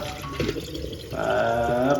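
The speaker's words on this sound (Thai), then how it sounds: "จากนั้นก็เทน้ำออกนะครับ" Rinse water is poured off washed glutinous rice in a kitchen, giving a close, steady splashing and trickling stream that grows fuller toward the end.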